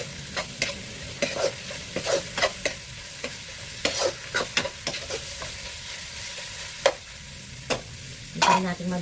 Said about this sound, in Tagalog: Ginisa muna ang giniling sa bawang at sibuyas.